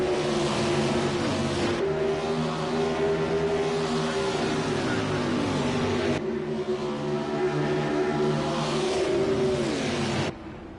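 Race cars roaring around the track in the AAA Texas 200, a 200-mile race, a steady loud engine drone with rising and falling pitch as cars pass, no talk.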